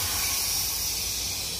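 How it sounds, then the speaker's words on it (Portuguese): Steady broadband air hiss from tyre inflation at a Michelin tyre shop, loud and close, continuous for the whole stretch with no talk over it. "Estamos aqui na Michelin calibrando os pneus."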